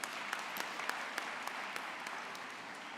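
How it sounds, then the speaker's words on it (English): Faint, even applause from a graduation ceremony audience for assistant deans, a continuous patter of many hands with a few crisp claps poking through. "all Assistant Deans deserve a round of applause"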